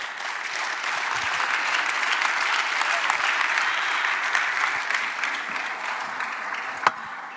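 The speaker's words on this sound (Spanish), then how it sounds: "Un aplauso fuerte al Señor." A church congregation applauds loudly and steadily during a Spanish-language service, dense clapping from many hands filling the room throughout, with a sharp single clap standing out near the end.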